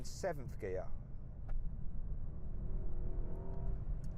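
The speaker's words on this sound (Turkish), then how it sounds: "Şimdi gaza basacağım 7. vitesteyim" A new Mercedes-AMG S63 accelerates in 7th gear: a low, steady engine drone with a faint rising tone. A brief voice is heard at the start, then the cabin hum continues alone.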